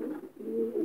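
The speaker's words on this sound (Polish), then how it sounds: "O, super oswojony gołąbek." A tame racing pigeon cooing up close, a single short low throaty coo that rises and wavers, clear and fairly loud against a quiet background.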